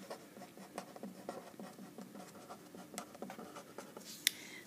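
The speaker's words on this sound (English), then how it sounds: "let's write out some instructions on multiplication" Pen strokes scratch quietly while algebra notes on multiplying rational expressions are written out: faint, irregular bursts of writing with short pauses between them and no talking.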